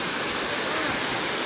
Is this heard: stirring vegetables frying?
no